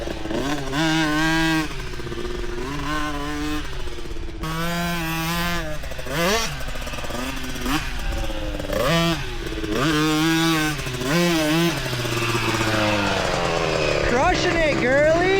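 Yamaha YZ65 dirt bike engine revving and shifting pitch continuously as it is ridden, loud and close throughout, with people talking over it.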